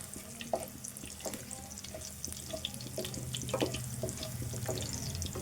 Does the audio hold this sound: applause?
no